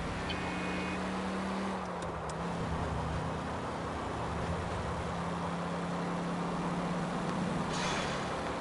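A car driving in the video game LA Noire, its engine giving off a steady, close, continuous drone with road noise and no talking.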